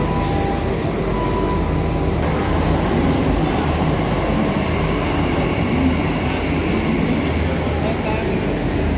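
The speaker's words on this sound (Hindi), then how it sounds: "दिल्ली मैट्रो स्टेशन दिल्ली हाट स्टेशन इतों निज़ामुद्दीन नू जाए पिंक लाइन दूई मैट्रो ट्रेन।" Delhi Metro Pink Line train at Dilli Haat station, a loud continuous rumble of rolling carriages with a hum throughout, heard close from a platform or inside, with voices faintly mixed in.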